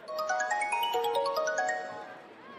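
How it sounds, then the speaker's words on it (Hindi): A phone ringtone plays a quick, bright melody of chiming notes stepping up and down, close and clear, fading slightly toward the end over low background noise. "फोन आ गया।"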